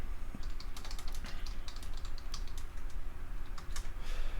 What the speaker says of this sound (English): you'll hear me typing because I'm bringing stuff up on my other screen from my notes